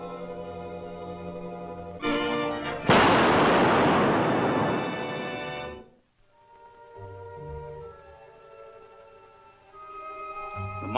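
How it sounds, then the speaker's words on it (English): A mine explosion in a 1940 film erupts as a loud, close blast after a rising rumble, then decays into a long roaring wash. Quieter orchestral score follows. "Have they discovered the cause of the explosion?"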